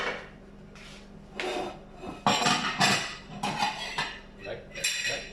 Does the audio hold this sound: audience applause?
no